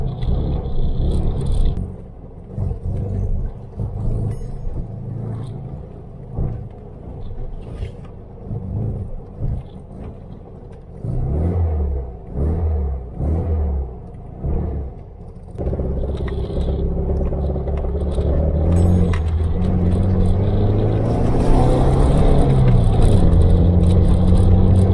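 A 1974 VW Beetle engine rumbling as the car rolls through a junkyard, low throbbing drone with uneven bursts and rises in revs, growing steadier and louder toward the end, no talk.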